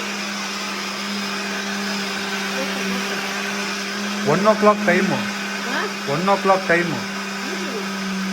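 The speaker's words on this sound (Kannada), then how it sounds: "ನಮ್ಮ ಅಮ್ಮ ಇಷ್ಟೊತ್ತಿಗೆ ಮಿಕ್ಸರ್ ಏನೋ ಮಾಡ್ತವ್ರು ನೋಡಿ" A kitchen mixer grinder hums steadily at home in the background, a constant close motor whine throughout, while people talk over it in the second half.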